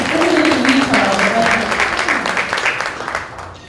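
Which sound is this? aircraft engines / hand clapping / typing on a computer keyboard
hand clapping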